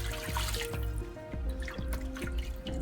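Water pours into a soup pot of chicken broth for chicken pot pie soup, a steady close trickle and splashing with dripping plops throughout, no talking.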